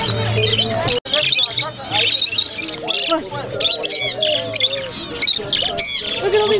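Small caged birds chirp and tweet rapidly at an outdoor swap meet, bright overlapping calls close by, with people talking in the background.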